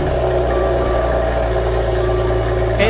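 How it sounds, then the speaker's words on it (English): A 2019 rear-wheel-drive base Maserati Ghibli running at a loud, close, steady idle with a deep droning hum and a faint rise right at the end. "Now we're going to go for the start of this base Ghibli"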